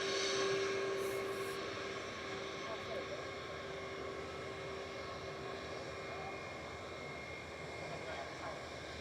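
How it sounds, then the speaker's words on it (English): A Turkish Airlines Airbus A321 departing Manchester Airport for Istanbul gives a faint, steady engine roar with a thin sustained whine, heard from a distance as a continuous wash of sound. "Turkish A321 Classic departing now with flight 19994 to Istanbul"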